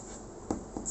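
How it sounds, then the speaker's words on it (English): A pen scratching and sliding across paper while a big circle is drawn for a craft project, a soft close scraping with two brief louder strokes and no talk. "first what you need to do is draw a big circle"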